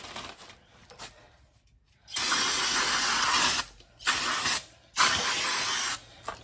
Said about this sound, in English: We're gonna use some brake cleaner.